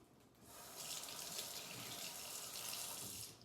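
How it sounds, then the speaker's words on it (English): Water from a kitchen tap splashing over a fork being rinsed, a steady hissing gush that starts abruptly, runs for about three seconds without a break and then cuts off, close by and moderately loud, with no voices. "I was just rinsing off my fork from the last time I made it."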